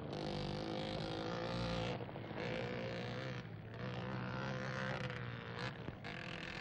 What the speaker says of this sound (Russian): В классе машин до 350 кубических сантиметров острая борьба разыгралась между московскими гонщиками Севастьяновым номер один и Пылаевым номер дв